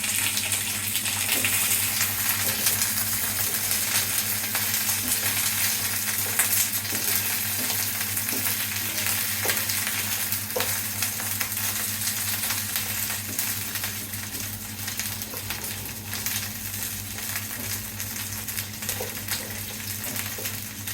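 Food stir-frying in a pan for Jamaican gungo rice and peas with chicken, giving a steady sizzling hiss with faint scraping through the whole stretch, close and even in loudness, with no talk.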